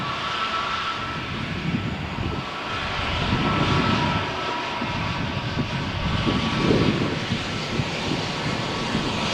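An airliner taking off from Malaga Airport runway 13 on a stormy morning, a loud sustained jet engine roar that swells and surges as it climbs, close and continuous with no talk.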